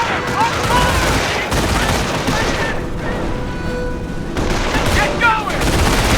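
World War II gunfire in the Company of Heroes game, dense bursts of rifle and machine-gun fire with booming impacts, loud and continuous, with soldiers shouting orders over the shooting.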